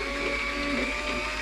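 An electric meat slicer, recently used on bologna, runs steadily after being switched on, giving a continuous motor hum with a high whine that holds even and close throughout.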